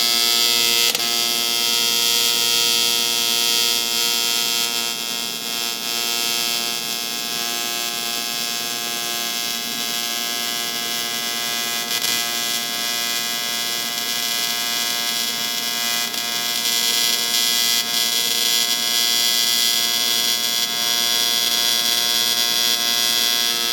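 A casting is being welded with a steady, continuous electric buzz and hum that holds evenly for over twenty seconds, close and loud with no talking.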